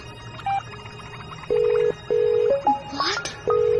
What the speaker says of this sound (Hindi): मैं फोन लगा रही हूँ उनको।